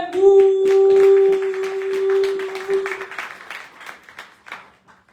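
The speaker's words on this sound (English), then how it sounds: "a round of applause for Zotani Mthembu" Applause at a live poetry slam event for a performer, with broadband clapping fading over several seconds while a sustained tone holds early on; the crowd noise thins into scattered claps near the end.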